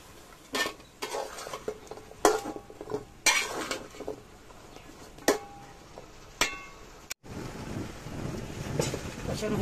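Spice paste being stirred and fried in a pan as potatoes and vegetable stalks go in, a series of sharp metal spatula scrapes and clanks against the pan over a low sizzle, ending in a steady frying hiss.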